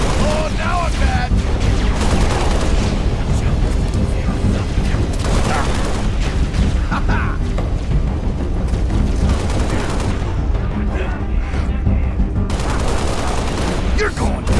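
Constant heavy gunfire and explosions in Halo: Reach, with rapid bursts and booms layered throughout, and voices shouting over the battle.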